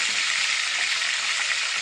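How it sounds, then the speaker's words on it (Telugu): Green chillies sizzle in hot oil with curry leaves while cooking a korameenu fish curry, a steady, loud, close crackling hiss that runs without pause for the whole moment. "తర్వాత పచ్చిమిర్చి వేసారండి."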